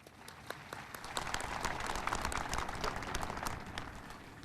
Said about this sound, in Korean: 참석하신 모든 분들께 큰 박수 부탁드립니다